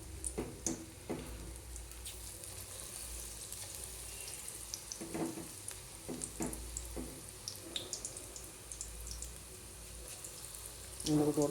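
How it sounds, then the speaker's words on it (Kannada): Chilli bajji sputter and sizzle in a pan of hot oil, a steady close frying hiss broken by a few sharper crackles and clinks. "ಈ ರೀತಿ ಮೊದಲು ಅದೇ ಎಣ್ಣೆಯಲ್ಲಿ ಬಜೆ ಹಾಕ್ಕೋಬೇಕು ನಾವು"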